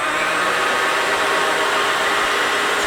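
A Hoover FloorMate hard floor cleaner runs in wash mode, a loud, steady whirring motor hiss with a broad airy rush, continuous and close without any pause.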